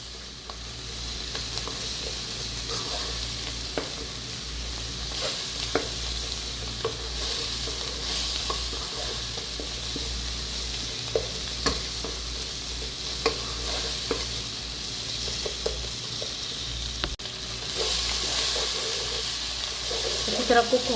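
Spices with salt, chili, turmeric and coriander fry steadily in a pan for bhindi masala, a constant sizzle under repeated scraping and stirring strokes of a spoon.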